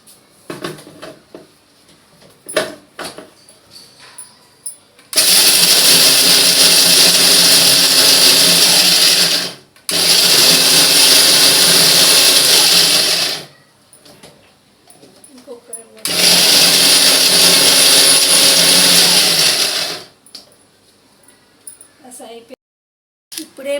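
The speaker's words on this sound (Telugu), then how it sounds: "పల్లీలు, ఎండు కొబ్బరి ఈ రెండు మిక్సీ చేసుకొని పొడి చేసుకుందాం." A kitchen mixer grinder whirs loudly through two long bursts, grinding peanuts and dry coconut into powder, with short quiet pauses and faint handling sounds between runs.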